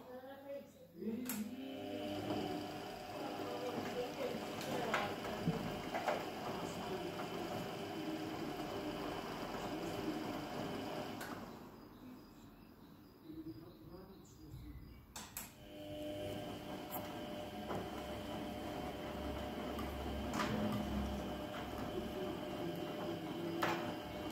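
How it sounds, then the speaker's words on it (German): A Laurus A10 washing machine runs with a steady mechanical hum and whir, close by. It dips briefly in the middle before resuming its continuous drone. "Loris ist einfach die beste Waschmaschine."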